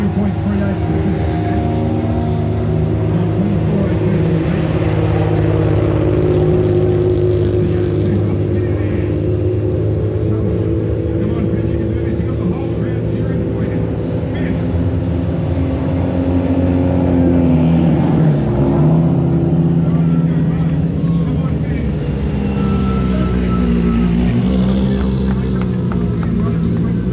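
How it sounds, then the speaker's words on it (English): Formula 1 race cars roar around the circuit at the Adelaide Motorsport Festival, a loud, continuous engine din with rising and falling pitch as cars pass, while a voice talks over the noise throughout. "we've got the F1 cars fanging around, and there's just nothing but noise at the moment"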